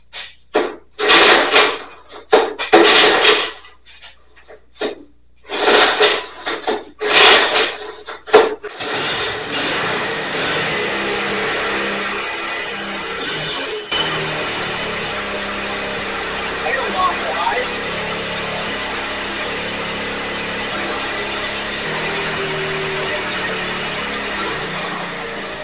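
A Honda ATC 185 three-wheeler engine starts after carburetor work. Several loud bursts of cranking and clattering come first, then the engine settles into a steady, close, continuous idle.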